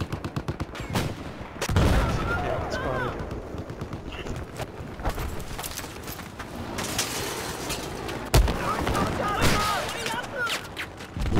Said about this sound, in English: Someone in that tank is shooting at one of them.